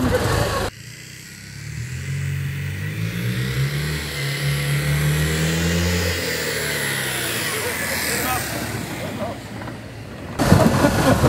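A rebuilt Citroën Méhari, unused for several years, drives around a garden; its engine drones close by, pitch climbing and wavering before easing off, with a burst of noisy sound at the end.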